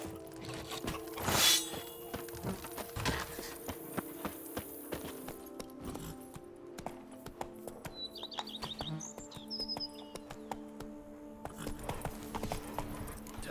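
Steady clip-clop of horse hooves at a quick, even gallop in The Witcher 3, with faint bird chirps and a brief sharp burst near the start.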